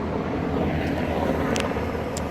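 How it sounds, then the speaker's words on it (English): A yellow search and rescue helicopter drones overhead as a steady, low, rumbling whir with a broad hiss of background noise. "That helicopter, if you saw it, that's a yellow helicopter."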